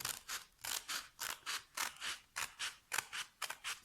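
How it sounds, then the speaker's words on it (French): Small scissors snipping paper in a rapid steady series of about a dozen crisp cuts, close up and soft, with no one speaking. "vous prenez hop, les petits ciseaux et puis vous coupez au centre"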